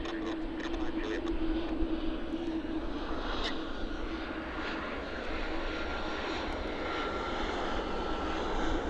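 A Brussels Airlines airliner lands with a steady, loud engine roar that continues throughout, while faint voices talk in the background.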